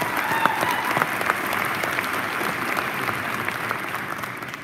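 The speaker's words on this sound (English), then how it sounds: "Let's give them a round of applause." A high school indoor concert audience applauds steadily in a large hall, a dense, sustained wash of many hands clapping with faint crowd murmur underneath.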